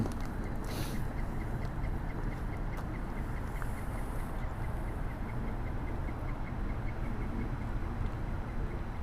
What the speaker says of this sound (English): Some kind of cool sounding bird there.